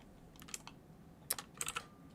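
Typing on a computer keyboard during a live 3D modelling session, with short bursts of soft, quick keystrokes and pauses between them, close and quiet, with no voices.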